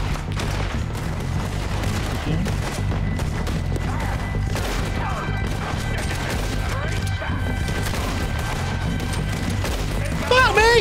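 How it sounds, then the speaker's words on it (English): Dense gunfire in Red Dead Redemption 2 keeps up without a break: cracks and blasts stacked over a low rumble, loud and continuous. A voice is briefly heard beneath it. "Who the fuck's shooting at me?"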